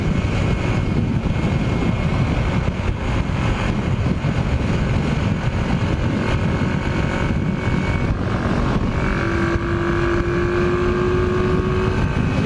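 A 1981 Yamaha XS 400 motorcycle engine runs at high revs while riding, a loud, steady droning buzz with wind rush, the pitch rising slightly near the end.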